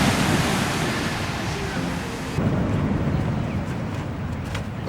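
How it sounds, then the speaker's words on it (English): Big ocean waves break on the North Shore in a continuous roaring wash of surf, with gusty wind noise across the microphone and one surge halfway through. "Oh wow, the waves are big."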